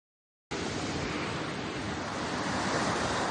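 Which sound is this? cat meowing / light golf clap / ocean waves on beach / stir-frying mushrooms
ocean waves on beach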